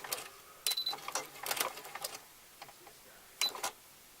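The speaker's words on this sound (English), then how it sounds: "what I'm going to do is a top stitch instead of the ladder stitch" Short bursts of a sewing machine running a long top stitch on fabric, quick whirring runs separated by pauses, close and fairly quiet with no voices.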